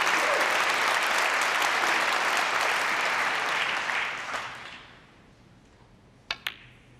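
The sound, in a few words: snooker crowd applause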